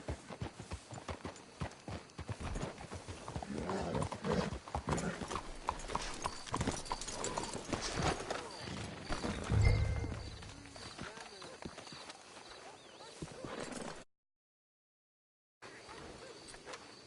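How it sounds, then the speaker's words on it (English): Horse hooves clop steadily in a PS4 video game, with an occasional whinny rising over the rhythm, while characters talk throughout; a brief silent gap near the end. "Let's hitch the horses up ahead."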